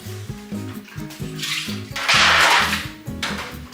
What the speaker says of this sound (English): add some water to that pan